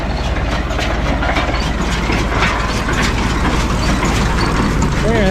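New Holland 644 round baler forming a bale of grass silage in a field, a dense continuous mechanical clatter and rattle with a rhythmic clicking, loud and close, with a brief voice at the end.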